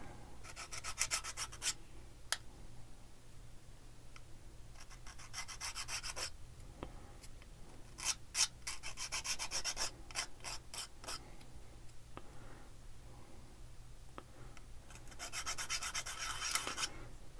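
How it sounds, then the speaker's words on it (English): Rapid scratchy back-and-forth sanding along the edges of a small model rocket fin tab, coming in several close bursts separated by short quiet gaps. "I'm going to smooth up the edges a little bit, that little tab. Get those sanded down."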